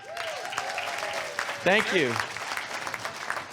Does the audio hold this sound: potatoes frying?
no